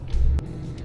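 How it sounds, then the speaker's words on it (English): The turbo blow-off valve of a Subaru Impreza WRX boxer lets out one quick, sharp hiss inside the car on a test drive. It cuts through a low engine rumble that carries on underneath. "the blow off that we are hearing and experiencing right now, it's just mind-blowing"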